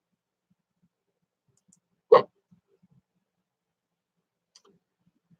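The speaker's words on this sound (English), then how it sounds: "My hiccups are causing me not to be able to pay attention." A single sharp hiccup breaks an otherwise quiet stretch, short and fairly loud, followed by faint scattered clicks.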